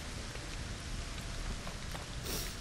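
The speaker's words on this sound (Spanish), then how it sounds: "Me preocupa la lluvia, a lo mejor necesitamos un refugio." Steady, dense rain pours down in the LEGO Fortnite video game, a continuous loud hiss of drops striking surfaces with no break, heard alone throughout.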